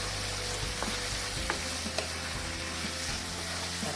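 Chopped tomatoes sauté with salt in a pan for road-side salna, a dense steady sizzle close by with a few light spatula taps over the top.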